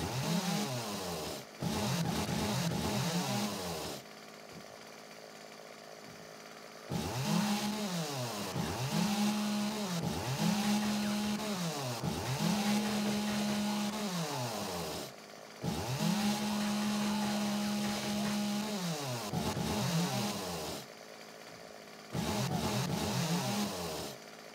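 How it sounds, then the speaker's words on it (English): A chainsaw in the game 7 Days to Die revs repeatedly in short bursts, each whine rising and settling with brief idle gaps between, fairly quiet and with no talk over it. "The old chainsaw."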